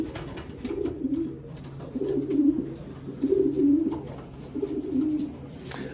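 A racing pigeon coos in a loft, giving four soft, low, rhythmic cooing phrases at close range with brief pauses between them.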